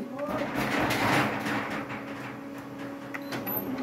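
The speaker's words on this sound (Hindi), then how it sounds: "ये देखिए ये पेपर प्रिंट लेगा" A Canon IR3035 office copier prints a page with a steady, close mechanical whirring and rolling of paper feed that continues without pause.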